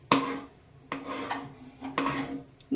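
A spoon stirs vermicelli and sago payasa in a metal pot, giving four scraping, clanking strokes at an even rhythm, each with a ringing metallic edge, close and fairly clear.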